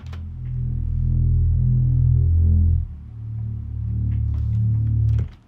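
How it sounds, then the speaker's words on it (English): A deep sub bass line from a West Coast style hip-hop beat plays alone, two long sustained low notes with a short gap between them, loud and smooth. "the sub bass went like this"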